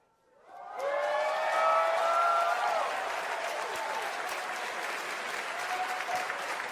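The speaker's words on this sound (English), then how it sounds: "It's not really the biggest crowd pop, is it?" Crowd applause and cheering greet the live reveal of Final Fantasy VII Revelation at a game announcement event, swelling quickly and holding as a steady, dense roar with a few whistles and tones mixed in.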